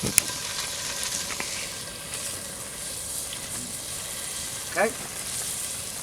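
Onion sizzles and fries in a Dutch oven over an open fire, a steady low crackling hiss throughout with a few clinks and a brief stir sound, while a voice speaks a word at the start.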